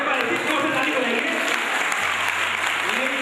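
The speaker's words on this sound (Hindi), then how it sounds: "एक बार ऐसी जोर से ताली बजाएंगे" Loud, sustained clapping from an audience after a dance performance in a Jain religious play, a dense wash of many hands with a faint voice or hum underneath.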